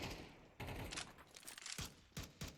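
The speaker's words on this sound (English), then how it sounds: "This gunfire over mid is a real adjustment of the Rush B gameplay" Bursts of automatic gunfire ring out over the middle of the map during a competitive Counter-Strike match on de_Ancient, several loud volleys separated by short pauses, with no talk.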